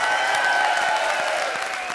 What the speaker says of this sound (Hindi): जोरदार तालियां बजाओ इसके लिए